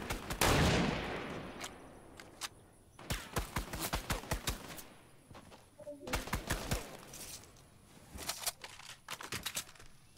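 Gunfire in the video game Fortnite comes in rapid bursts of sharp automatic shots, some spaced, some clustered in quick volleys, loud and near, with a whoosh at the start.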